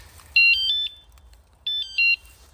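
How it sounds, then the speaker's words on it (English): An e-bike alarm (Smartravel ST201F) sounds two loud, close bursts of high electronic beeping, each a quick pattern of warbling tones, separated by about a second of quiet. "So that was the other alarm."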